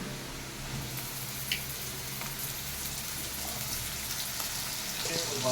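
Ridge gourd pieces and potatoes fry steadily in a pan, a continuous close sizzle with faint crackles and a few soft clinks, running evenly throughout with no talk.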